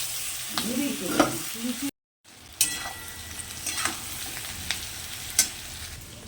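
Potatoes with onion added frying in a hot pan, a steady sizzle broken by scraping stir strokes and a brief silent gap, close and fairly loud with no talk.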